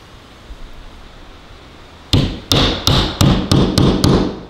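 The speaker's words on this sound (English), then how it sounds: "now I just test it with my hammer and a screw" Six sharp hammer taps ring out on a screw held against a garage wall, evenly spaced and loud and close, following a quiet stretch.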